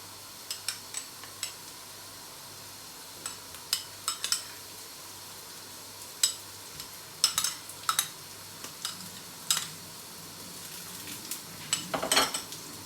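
Utensil stirring garlic and ginger paste in a pan, for a spicy Bangladeshi fish curry: a scatter of light scraping clicks and taps over a faint steady background, with no voices.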